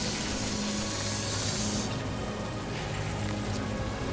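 In the Death Stranding video game, repair spray hisses onto cargo containers as a continuous, loud, airy spray with faint mechanical clicks and a low hum underneath, with no talking.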